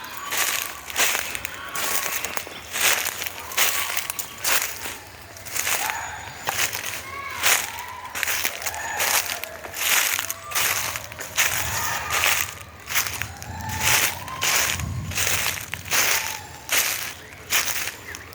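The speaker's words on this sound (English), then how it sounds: "Rustling sound you can hear." Footsteps push steadily through dry forest undergrowth in Thalakona forest, making a continuous crunching, swishing rustle of leaves and twigs that stays close and fairly loud throughout.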